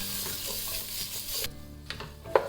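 Onions sautéing in a pan for butter chicken make a soft, steady sizzle, with stirring scrapes and a sharp clink near the end.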